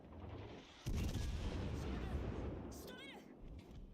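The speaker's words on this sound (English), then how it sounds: "The Leon is shooting HE, which is not ideal." Heavy naval guns firing in World of Warships Legends, a loud broad blast near one second followed by sustained rumbling shell fire and impacts, with a voice-like tone near three seconds.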